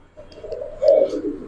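A female pigeon of an old breed coos in a short rising and falling call, close and clear, with a faint flutter above it and no one speaking.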